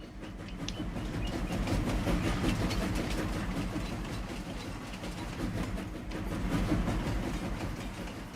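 A train in the Farming Simulator 25 video game rolls along rails on a farm map, a continuous loud rumble with rhythmic clacking and a swelling engine drone throughout.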